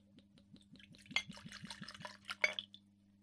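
Mead pours into a small butterbeer glass in a series of soft, close trickles and drips with faint glassy clinks, quiet against a low steady hum, and no speech.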